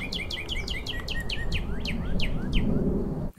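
Birds chirp outdoors in a rapid run of high, bright tweets that come one after another, then slow to a few scattered calls over a steady background hiss.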